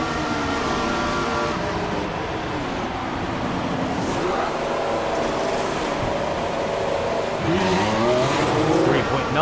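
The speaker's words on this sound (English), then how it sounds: "Okay, in we come for our first pit stop." In the F1 2014 video game, a Formula One car enters the pit lane at Suzuka, its engine whining continuously with shifting pitch sweeps over a steady roar, while someone talks over it.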